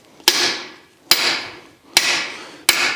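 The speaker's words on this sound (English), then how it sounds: "ideally, don't even pound on a socket" A hammer strikes a metal socket four times in an even rhythm, each sharp, loud clang ringing out briefly before the next blow.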